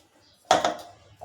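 A mixer bowl being picked up and set down in a kitchen while preparing raw mango sherbet: a single sharp metallic clatter with a brief ringing decay, followed by a faint second knock.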